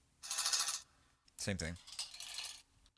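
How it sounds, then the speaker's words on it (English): Basic metal chains rattle and clatter against an aluminum ladder in two bursts of jangling metallic clinks, close and fairly loud, with a short pause between them and a few spoken words in the middle. "this is me taking just basic metal chains on my aluminum ladder"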